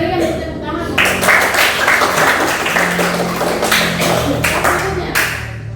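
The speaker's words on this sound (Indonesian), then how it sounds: "berikan tepuk tangan" Classroom applause during a math lesson, a burst of clapping from students that starts abruptly after a short voice, with uneven, tapping hand claps continuing for several seconds.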